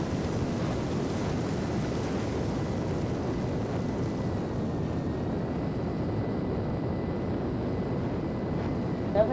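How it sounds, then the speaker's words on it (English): A jet aircraft roars in Grand Theft Auto V, a dense steady rushing engine noise that stays loud and constant throughout, with no voices over it. "Oh no, never mind. I got a jet."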